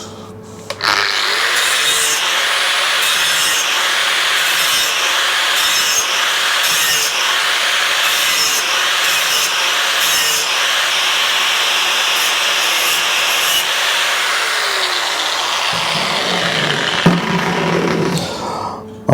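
An angle grinder works across Royal Enfield motorcycle engine parts during cleaning, a loud, continuous abrasive scraping and hiss that stays steady before tapering off near the end.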